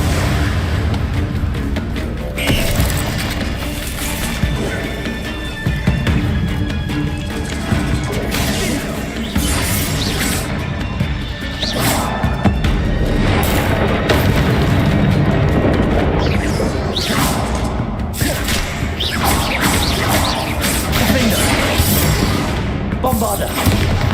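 Bombarda explosion spells go off during a Hogwarts Legacy battle on PC, with loud, dense crashes, booms and thuds filling the scene almost without a break, and voices mixed in.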